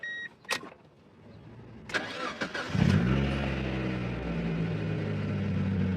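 A 1999 Mazda Miata, just back together after a fuel pump replacement, cranks briefly and fires up, then settles into a steady, close idle. A few clicks come first, and no one speaks.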